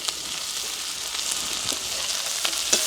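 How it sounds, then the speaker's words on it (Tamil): Onions and curry chillies sizzle in a pan, a steady close frying hiss with a few sharper pops. "இப்போ கறிமிளகா வெங்காயம் வந்து நல்லா வதங்கணும்"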